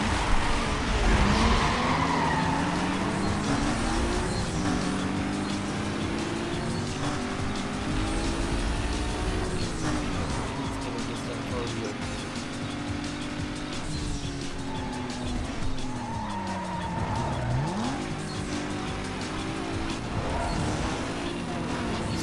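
Race cars from the video game Need for Speed Most Wanted (2005) roar with revving engines and sliding tire squeals, sweeping pitch changes as they skid through turns, loud and continuous throughout.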